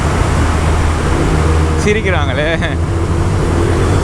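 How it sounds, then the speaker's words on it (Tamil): A Kawasaki ZX10R motorcycle rides through a road tunnel, its engine and wind noise a loud, continuous roar filling the space, with a short burst of voices and laughter over it. "டனல் உள்ள பயங்கரமாக இருக்கு சவுண்டு."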